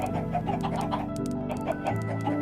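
Chickens clucking steadily in the Minecraft survival game, a dense overlapping run of short repeated clucks at moderate level with no talk.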